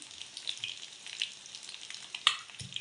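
Garlic and curry leaves frying in a pan for stuffed brinjal and okra dishes, giving a steady close sizzle with sharp spatter pops and a brief scrape near the end.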